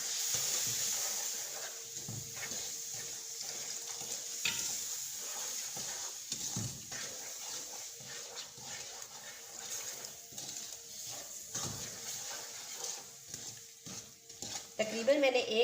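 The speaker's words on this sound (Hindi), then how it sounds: "अच्छी तरह से ज़ोरदार हाथों के साथ इसमें चम्मच चलाएंगे।" A spoon stirring phool makhana halwa with milk in a pot, steady scraping and liquid swishing with a faint sizzle, continuing throughout with a few louder clatters.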